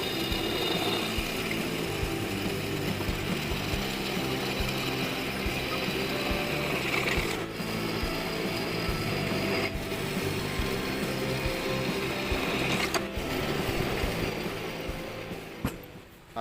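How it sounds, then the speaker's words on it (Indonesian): A steady, continuous mechanical whirr of a drill boring holes into steel for a homemade hydraulic press, droning without pause with a few faint clicks along the way. "untuk bagian sudutnya nanti akan kita berikan lubang ya, kita bor ini ya"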